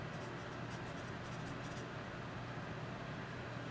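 A Kitaboshi 9606 HB pencil writing on paper, with soft, faint scratchy strokes in short bursts over a quiet background hiss, then tapering off.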